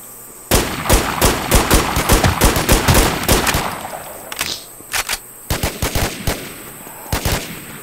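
Gunfire in The War Z video game, including sniper fire, comes as a loud rapid run of shots, then several separated bursts of sharp reports after a brief pause.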